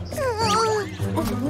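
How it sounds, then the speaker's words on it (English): A cartoon cat meows in a voiced, animated sing-song, a few quick wavering meows close and loud with no other sound behind them. "Meow, meow, meow."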